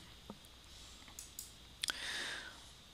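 A computer mouse gives a few quiet, sharp clicks, a single one and then a quick double click, over faint room hiss.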